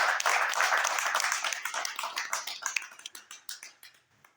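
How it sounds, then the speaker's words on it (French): A conference audience claps in Paris, a dense burst of applause that thins into scattered individual claps and fades out near the end. "Est-ce qu'on peut applaudir?"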